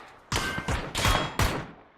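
Several bursts of rapid video game gunfire crackle in quick succession, loud and close, separated by short pauses, in PUBG.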